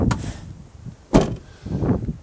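Near side door of a Land Rover Defender 90 TD5 being handled, a soft click followed by a solid thud of the door closing, close up and alone.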